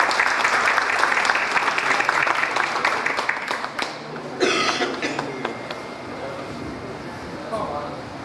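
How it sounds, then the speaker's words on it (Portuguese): An audience at a medical society certificate ceremony claps for several seconds, a steady patter of many hands that gradually thins, with a cough and background voices mixed in. "Salve de palmas à nossa amiga aqui"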